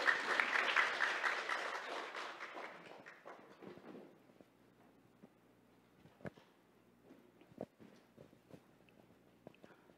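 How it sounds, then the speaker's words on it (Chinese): A seminar audience applauds to welcome a foundation chairwoman to the stage, loud sustained clapping for about four seconds that fades into scattered claps, footsteps and small knocks in a quieter room. "现在让我们以热烈的掌声欢迎蔡董事长"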